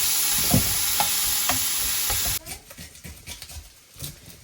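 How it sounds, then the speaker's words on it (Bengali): Tomatoes frying loudly in a pan with a steady close sizzle and light stirring taps, then the hiss drops abruptly as garlic and onion go in, leaving softer sizzling and scraping. "টমেটো কিছুক্ষণ ফ্রাই করে এখন দিচ্ছি এই রসুন আর পেঁয়াজ"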